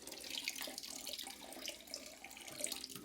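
Water runs from a faucet into a sink during cleaning of fired brass cases, a steady hissing splash with slight fluctuations, close and uninterrupted.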